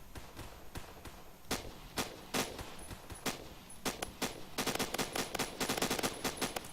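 P90 submachine gun fire in the Roblox game Phantom Forces, a string of sharp bursts and single shots growing denser into rapid automatic fire toward the end, fairly faint in the mix.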